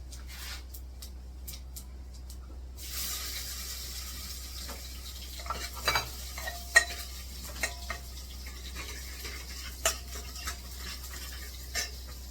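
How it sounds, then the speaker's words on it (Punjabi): Cumin seeds sizzle in a hot pressure cooker for tempering mixed dal, a soft steady crackle after a quiet start, with scattered clinks and scrapes of stirring in the pan. "ਹੁਣ ਆਪਾਂ ਜੀਰਾ ਪਾ ਲੈਂਦੇ"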